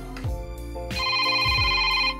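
An old flip phone rings with a bright electronic tone, starting with a few low beeps and then a sustained warbling melody, loud and close with no talk.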